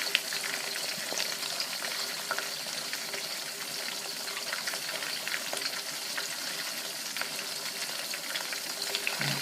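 Pork for sweet and sour pork fries in a pan with a dense, even sizzle and fine crackling that holds steady throughout, close and moderately loud, with no talking.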